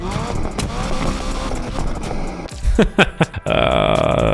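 A car with a basic, unupgraded Wankel rotary engine drives in the racing game NFS Unbound: a steady engine drone, then a few choppy revving bursts and a sustained higher-pitched whine.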